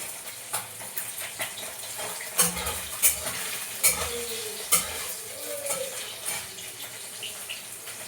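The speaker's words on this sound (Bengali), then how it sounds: "লাল ভাবে মাছ ভাজাটা অল্প জালে ভাজতে হবে" Puti fish fries over low heat in a pan with a steady crackling sizzle, punctuated by several sharp scrapes and knocks of a utensil against the pan.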